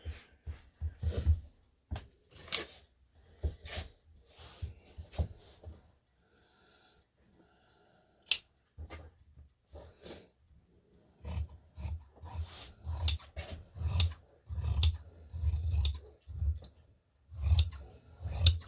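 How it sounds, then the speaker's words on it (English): Dull scissors snip through linen fabric in a series of sharp, close cuts, rasping strokes coming in uneven bursts, with a quieter pause in the middle before a faster run of cuts. "These scissors are getting dull too."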